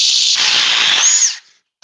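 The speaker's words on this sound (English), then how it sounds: "DeWalt Impact versus the Ryobi HP Compact." DeWalt impact driver and Ryobi HP compact drill running loud and close, a continuous high whir with rattling hammering texture for over a second that cuts off abruptly, then a brief burst of the motor near the end.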